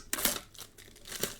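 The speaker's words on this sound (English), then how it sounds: "be ripping these beautiful tins open while we discuss Pokemon business" Pokémon card tins and booster packs being ripped open, giving several bursts of crinkly foil tearing and crumpling, close and fairly quiet, with no talking.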